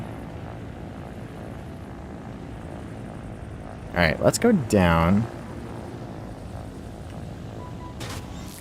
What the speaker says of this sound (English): These helicopter motors are surprisingly slow.